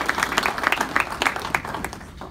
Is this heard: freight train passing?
no